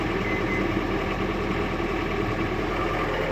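A John Deere 326E skid loader's diesel engine runs at a steady idle nearby, a constant low rumble with faint knocking vibration and no talking.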